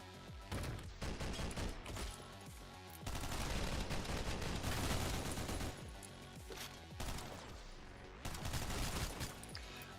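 Rapid bursts of gunfire from the video game OTXO sound in dense, loud clusters separated by brief pauses, with booming impacts mixed in.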